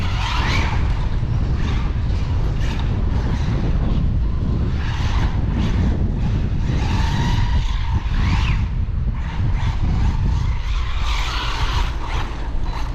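An HPI Maverick QuantumR Flux radio-controlled car spins donuts, its electric motor whining in loud, continuous bursts with gritty skidding and scrabbling tires throughout.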